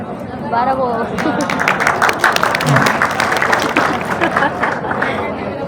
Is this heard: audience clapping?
yes